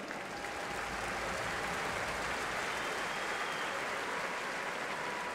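Steady, dense applause from a large crowd honouring a handball club's office staff at a farewell event, continuous and even throughout without voices standing out.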